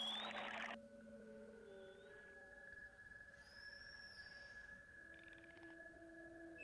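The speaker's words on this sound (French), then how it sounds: "Accompagné de dauphins, joueurs," Dolphins vocalize underwater in long tonal whistles that glide and hold, with several voices overlapping at low volume over a quiet marine background.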